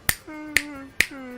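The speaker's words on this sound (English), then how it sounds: "snapping your fingers is one hand clapping" Three crisp finger snaps, close and evenly spaced, each a sharp click over a faint hum.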